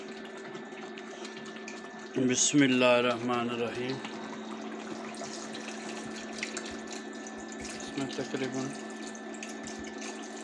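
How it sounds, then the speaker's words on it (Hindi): Water pours steadily from a tap into a pot for fish curry, continuous and close, with someone speaking briefly over the start of the flow. "1 लीटर पानी डाल दिया"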